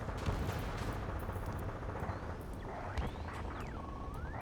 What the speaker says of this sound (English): City under martial law. Gunfire and the roar of jets echoing through the streets.